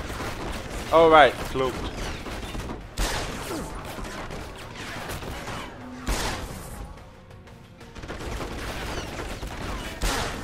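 Gunfire in the video game Deus Ex: Human Revolution: scattered shots and crashing bursts from a firefight, mid-distance, mixed with game effects while someone talks over them.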